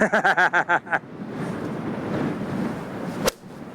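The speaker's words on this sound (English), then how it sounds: "Unbelievable wind." Strong wind buffeting a microphone on a links golf course, a continuous rushing roar with a sharp click near the end, following several rhythmic tonal pulses at the start.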